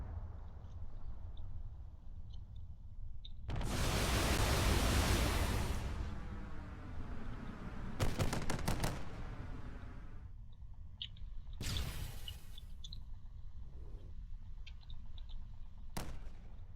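A battleship in the Drone Wars video game fires volleys of torpedoes, heard as several loud, broad whooshing bursts of a few seconds each, separated by quieter stretches of faint clicks and tones.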